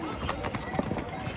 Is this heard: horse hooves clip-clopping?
yes